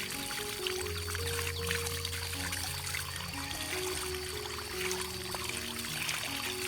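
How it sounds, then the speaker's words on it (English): A gentle stream of water pours steadily onto a potted plant, a soft continuous trickle heard quietly and close, with no voices. "The gentle stream of water will help remove old soil, bacteria, and any remaining pathogens"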